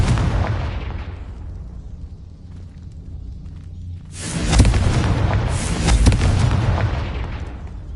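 A Confringo blasting spell goes off in Hogwarts Legacy, a sudden broadband blast that swells and rumbles, followed by a second burst and lingering crackling debris over a low steady background.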